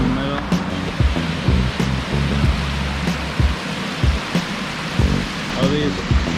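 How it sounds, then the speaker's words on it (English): A waterfall runs down the middle of a stepped stone stairway with rock walls and benches nearby, giving a continuous close rush and splash while someone talks over it. "Waterfall going down the middle."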